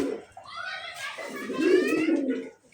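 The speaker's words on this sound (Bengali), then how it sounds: "কিছু কবুতর এখানে খাওয়া দাওয়া করতেছে, আর ভিতরে আরো কিছু কবুতর আছে" Close pigeons in a loft coo in soft, rolling throaty calls, overlapping one another for a few seconds.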